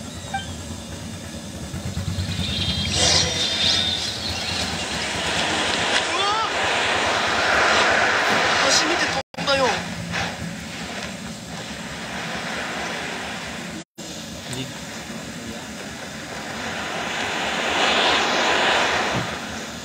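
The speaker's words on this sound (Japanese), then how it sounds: "わっ風だ、 相当強い雰囲気だ" A strong roaring wind blows steadily in Genshin Impact, a broad rushing drone that swells and fades, with voices talking over it and two brief dropouts.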